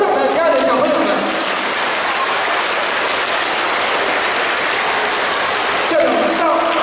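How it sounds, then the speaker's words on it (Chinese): An audience gives sustained, dense applause for child performers at a school music recital and English song contest, a steady roar of clapping with a few voices rising over it. "让我们再次热烈掌声谢谢今天所有上台表演的小朋友们。"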